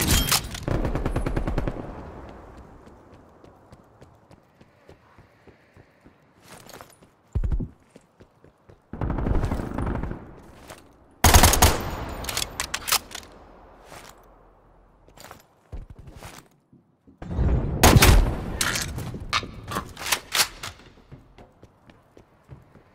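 Enemy sentry turrets in a video game fire in several loud, rapid bursts of gunfire separated by quieter gaps, with sharp cracks ringing out near and clear.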